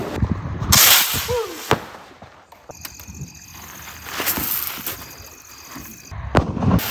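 Diwali firecrackers bursting outdoors during Lakshmi Puja night, with sharp loud bangs and crackles scattered through the clip, faint whistling trails and continuous background popping in between.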